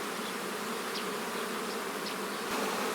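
Honeybees fly at a hive entrance in late May, a dense, steady buzzing drone of many insects close by, with individual bees passing briefly louder, and no talking.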